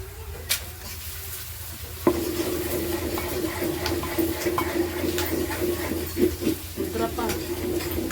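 A tadka for saag frying in a pan while being stirred, a constant low sizzle broken by scraping and clinking stir strokes, with faint talk in the background.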